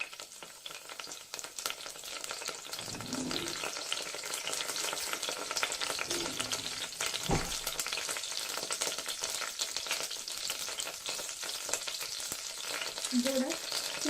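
Mustard seeds, two dried red chillies and curry leaves frying in oil for fish kulambu, a continuous fine crackle and sizzle with occasional stirring knocks, fairly quiet and steady, without speech.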